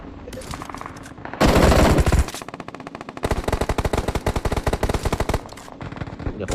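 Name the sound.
gunfire in PUBG Mobile video game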